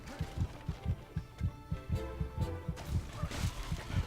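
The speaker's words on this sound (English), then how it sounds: "the heartbeats will stop when I get enough health" Low-health heartbeat in the video game Overlord: Raising Hell, a steady, deep, close double-thump pulse repeating about twice a second over a faint ambient background.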